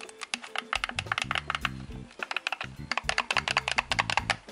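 Clicky buttons on a Hyperkin RetroN 5 controller are pressed in quick irregular bursts, producing sharp, mouse-like clicks close up, with short pauses between flurries.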